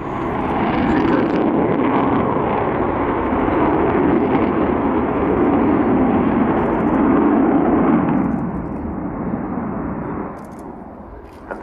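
Avro Vulcan bomber in a flying display at RIAT 2015, a loud, sustained roar of its jet engines that holds for several seconds and then fades as it moves away.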